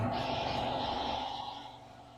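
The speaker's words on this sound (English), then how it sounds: "My compressor just came back on" An air compressor runs nearby with a steady droning hum and hiss that gradually fades over a couple of seconds.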